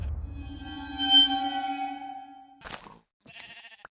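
Sheep bleat in a video game village, starting with one long, wavering, tonal bleat. Shorter bursts and a thin blip follow. The sound is moderate in level and close, with no talking.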